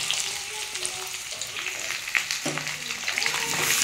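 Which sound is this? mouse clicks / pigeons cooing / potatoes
potatoes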